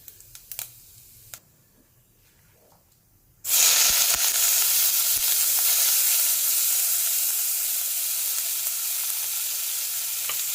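Urad dal and fenugreek seeds hit hot oil in a pan and burst into a loud, steady sizzle that holds for several seconds, after a few quiet clinks and handling sounds.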